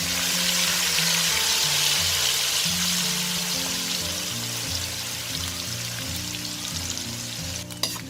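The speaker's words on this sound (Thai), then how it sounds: "แล้วเราก็มาใส่ปลาลงไปเลยค่ะ" Fish sizzling as it fries in oil in a pan over medium heat, with a loud, steady crackle that holds throughout and a faint tonal background hum.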